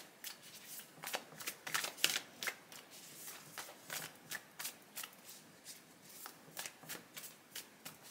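A deck of cards is shuffled again and again in quick riffling bursts, each a soft crisp flutter, close up and fairly quiet with no talking.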